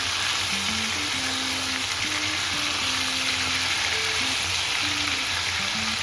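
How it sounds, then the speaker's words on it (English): Squid frying loudly in a pan after being turned over, a dense constant sizzle and crackle that fills the whole stretch, with a low tonal hum underneath. "So now we will try to flip on the other side."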